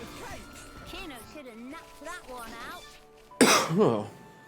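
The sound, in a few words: coughing and throat clearing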